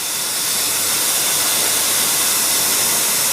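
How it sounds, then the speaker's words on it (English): Wendougee espresso machine steam wand with a four-hole tip running freely, a loud, constant close-up hiss of steam that holds steady throughout, with no speech. "I'm just going to let it run for maybe 30 seconds to show you how powerful the steam is"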